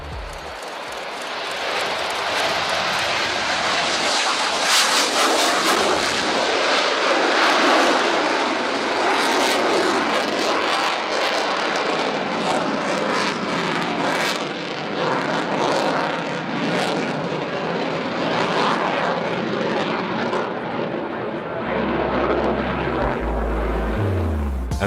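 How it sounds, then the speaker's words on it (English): A jet airplane roars past low, then climbs almost vertically, its loud broadband engine noise swelling and holding for over twenty seconds before tapering off. "This jet showing off by flying low and then climbing almost vertically."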